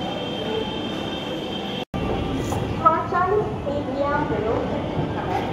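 A Kanpur Metro train rolls steadily along the rails with a constant low rumble and faint squealing wheel tones, heard from inside; a voice talks over the noise.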